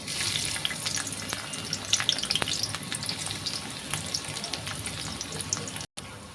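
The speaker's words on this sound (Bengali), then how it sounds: "তেলটা গরম হয়ে গেছে, এখন আমি পেঁয়াজটা দিয়ে দিব।" Onions hit hot oil in a pan for a broiler chicken and potato curry, giving a steady close sizzle with sharp crackles and pops, briefly cutting out near the end.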